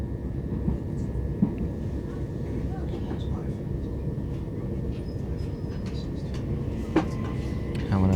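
A Class 377 Southern train runs along the rails near Mitcham, heard from inside as a steady, low rumbling drone with occasional faint clicks and thumps.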